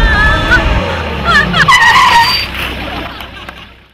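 A car brakes hard to a stop on a road, its tires squealing and skidding loudly for a couple of seconds before the noise fades, in a Hindi action movie scene.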